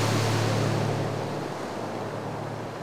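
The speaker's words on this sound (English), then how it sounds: "you see the waves pounding in" Ocean waves pound against a shore lined with rows of stones, a continuous loud wash of surf with a low rumble, slowly easing over nearly three seconds, with no voices.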